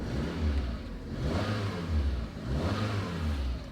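A car engine revved a few times from idle, the note rising and falling in repeated surges, close and fairly loud, with no talking.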